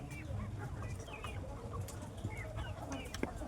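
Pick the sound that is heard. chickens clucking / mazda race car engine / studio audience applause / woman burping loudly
chickens clucking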